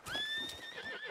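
Horse in Red Dead Redemption 2 gives one long, close, loud whinny with wavering pitch, hoofbeats clopping faintly underneath.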